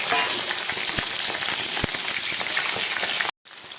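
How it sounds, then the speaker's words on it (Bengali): Potato pieces fry in hot mustard oil with a dense, steady crackling sizzle, a few sharper pops, then a brief drop to silence before the sizzling resumes softer. "তেলটা গরম হয়ে গেছে, এবারে আমি কয়েক টুকরো আলু এর মধ্যে ভেজে নিচ্ছি।"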